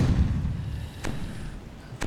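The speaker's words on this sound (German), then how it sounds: "Da explodieren die ersten Vorkanonen." Cannon explosions in the pirate naval game Age of Pirates Caribbean Tales: a heavy low rumbling blast at the start, followed by two sharp, fairly faint thuds about a second apart, all fairly distant.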